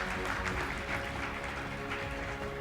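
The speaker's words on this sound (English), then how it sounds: "Another last round of applause" Gala-event audience at a scientific merit awards ceremony applauds steadily, a continuous wash of many hands clapping at moderate distance over a low hum, with no talk.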